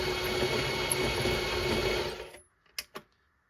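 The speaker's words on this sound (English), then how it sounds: "I'm just trimming it down in order to get a burr on there." A brass cartridge case is trimmed with an RCBS carbide outside deburr tool head to raise a burr: a steady, close mechanical whirring grind runs for about two seconds, then stops, followed by two sharp clicks.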